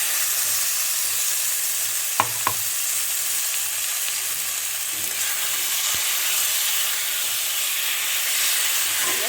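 Flour stirred into a frying vegetarian taro stolon dish in a pan, a steady loud sizzle and hiss throughout with a couple of sharp utensil knocks, close and without talk.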